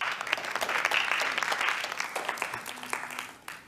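An audience in an anatomy lecture hall claps together for several seconds, a dense, lively patter that slowly thins out toward the end.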